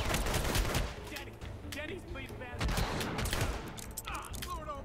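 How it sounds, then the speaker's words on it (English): Gunfire in the video game Hitman: Absolution, dense bursts of rapid shots rattling almost continuously over several seconds, loud and close, with voices mixed in among the shots. "I'm shooting right over his head"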